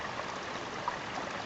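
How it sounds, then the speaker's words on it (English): A small hillside spring trickles steadily into a creek in a dry ravine, making a continuous close-up babbling wash with no voices. "Here's another little spring running merrily along"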